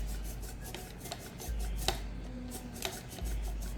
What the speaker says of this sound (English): this is the process of how we cut our potatoes